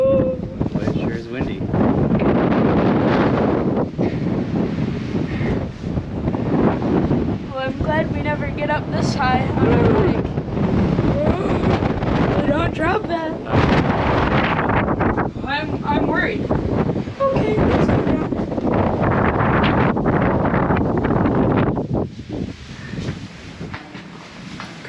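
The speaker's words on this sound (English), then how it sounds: "Boy, it sure is windy." Strong, gusty wind roars and buffets across an exposed Appalachian Trail mountaintop, loud and continuous with rough bursts, while people talk over it.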